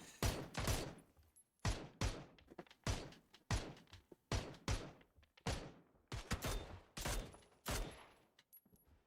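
Gunfire in the battle royale game PUBG during an esports scrim match, repeated loud bursts of shots in quick rhythmic volleys with short gaps, fairly close and dominating.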